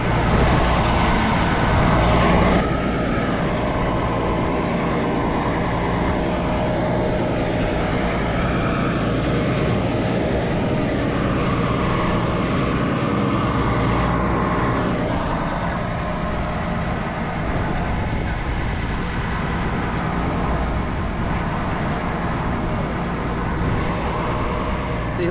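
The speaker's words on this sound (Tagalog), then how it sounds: "Dinig na dinig dito yung ano ng makina oh." A fishing boat's engine runs in a steady, loud, continuous drone with low rumbling tones, heard up close throughout, while people speak intermittently over it.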